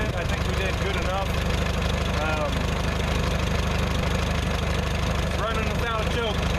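A 1948 Farmall H tractor engine idles steadily with its choke off, a loud, even low-pitched rumble that continues unbroken throughout, with faint higher chirping sounds drifting over it now and then.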